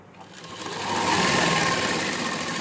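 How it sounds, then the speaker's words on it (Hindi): Sewing machine stitching a garara, a steady rapid mechanical whirring and clatter that starts softer and rises to a loud, even run, close and continuous with no talk. "तो इस तरह हम पूरी सिलाई कर लेंगे।"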